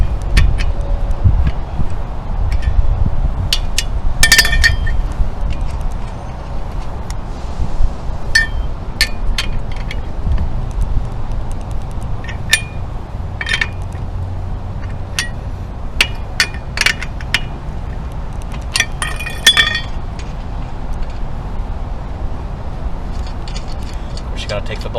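Wrench loosening the wheel bolts on a Nissan car while changing a tire, with scattered sharp metallic clinks and taps over a steady low outdoor rumble; people talk now and then.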